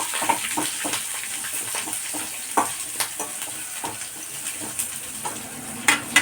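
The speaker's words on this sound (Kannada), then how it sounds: "ಸ್ವಲ್ಪ ಈರುಳ್ಳಿ ಹಾಕಿ ಚೆನ್ನಾಗಿ ಬಾಡಿಸ್ಕೊಳ್ಬೇಕು" Onions sautéing in a pan: a steady soft sizzle runs throughout, broken by irregular sharp scrapes and clicks of stirring, close and moderately quiet, with no talking.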